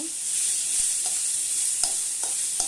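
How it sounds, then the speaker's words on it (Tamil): Mustard seeds, urad dal, green chillies and curry leaves sizzle in hot oil while being stir-fried, a steady close hiss broken by occasional scrapes and taps of a spoon against the pan. "முதல்ல கடுகு உளுத்தம்பருப்பு போட்டு பச்சை மிளகாய் அப்புறம் கருவேப்பிலை எல்லாம் போட்டு வதக்கிட்டு"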